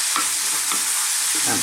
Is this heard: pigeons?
no